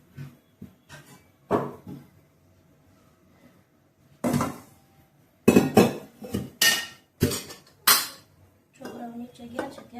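Pots and utensils clink and clatter in a home kitchen as chickpeas for chole are tempered on the gas stove, with sharp intermittent knocks in scattered bursts and quiet gaps between them.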